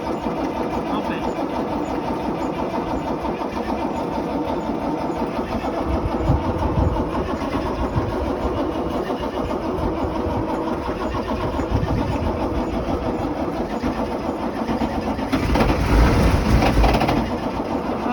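A Unimog's engine cranks repeatedly in cold weather, grinding and chugging without catching, with a louder surge of turning over near the end, up close and continuous.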